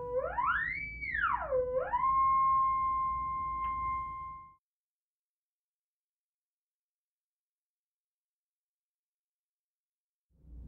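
A modified theremin played through a small 2-inch speaker swoops down and back up in pitch, then holds a steady note before cutting off into silence.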